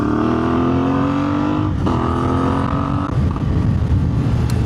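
A CFMOTO 450MT IBEX motorcycle with a power tune accelerates hard, its engine note climbing steadily through a gear, dropping at a shift, then rising again, loud and close throughout.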